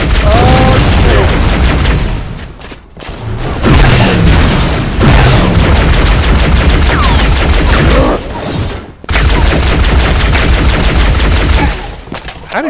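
A grenade explodes in Halo: Combat Evolved amid heavy, loud gunfire and booming blasts that run almost without a break, with short dips between bursts.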